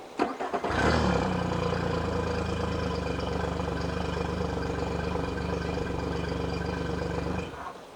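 A 2022 Yamaha F40LA 20-inch tiller outboard boat motor restarts with a brief cranking catch, then settles into a steady, moderately loud idle that holds without talk before cutting off near the end.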